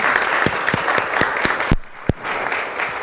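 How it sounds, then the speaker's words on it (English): Audience applause at an Oklahoma City city council meeting, a brief dense burst of clapping in a chamber with a few louder nearby claps standing out. "Let's show a round of applause for Carla."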